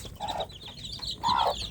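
Free-range village roosters and hens cluck nearby, two loud drawn-out calls with chatter between them, clear and close.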